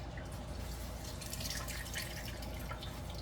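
Water dripping and trickling from drained cucumbers, a steady, close, quiet patter of drops running on without any voices.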